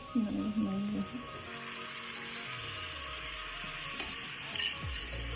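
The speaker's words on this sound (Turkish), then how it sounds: "Et suyumu öncelikle veriyorum." Beef broth poured into a hot pan of pilaf rice gives a soft hissing sizzle with watery splashing, fairly quiet, and a voice talks briefly near the start.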